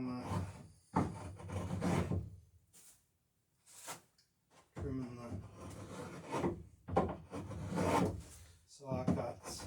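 Hand tool rasping and shaving saw marks off the edges of wooden boat planks, sheer strakes, in bursts of scraping strokes with short pauses, close by, with a voice talking over parts of it.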